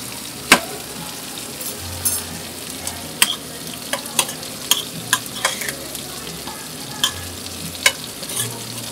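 Butter sizzles in piri piri pepper oil in a pan, a steady close frying hiss broken by sharp clicks and taps of stirring scattered across the whole stretch.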